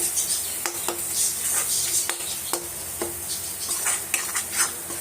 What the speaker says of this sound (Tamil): இதில் நம்ம அரைச்சி வச்ச பொடி, மஞ்சத்தூள், இது ரெண்டுத்தையும் போட்டுருங்க. போட்டுட்டு நல்லா மிக்ஸ் பண்ணிக்கோங்க.